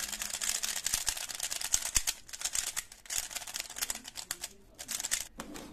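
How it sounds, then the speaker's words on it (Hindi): An RS3M 2020 speed cube being turned rapidly, giving dense, rattling plastic clicks in fast runs broken by short gaps, heard close up and moderately quiet, with no talking. "एंड ये है RS3M 2020 की आवाज।"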